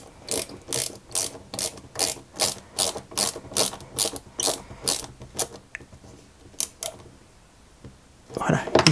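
A small screw is driven into a model 1961 London Routemaster RM857 bus, giving a quick run of rhythmic ratcheting clicks, close and fairly loud, that slows and fades into scattered clicks before a brief rustle.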